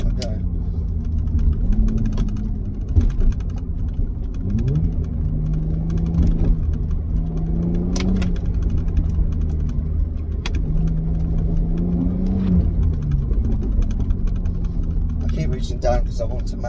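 A Lexus IS300 with a 2JZ engine rumbles loudly while driving, its pitch rising and falling through several blips and rev-matched downshifts, heard from inside the car as a person talks over it.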